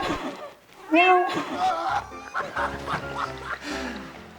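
Amid casual chatter, a voice imitates a cat's meow with a short, rising-and-falling mewing cry.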